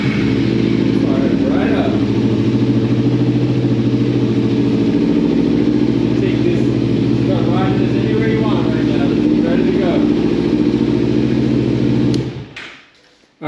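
A 2014 Kawasaki Ninja 300 motorcycle idles steadily and loudly close by after being revived, its even engine drone running for about twelve seconds before cutting off abruptly, with voices talking over it.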